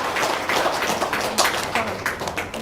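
An audience claps together in a lively burst, dense and steady, with some voices and cheering mixed in among the hands.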